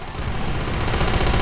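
Dense, continuous automatic gunfire from Call of Duty: World at War campaign gameplay on Hardened difficulty, a loud, steady stream of rapid shots with no pauses across the whole stretch.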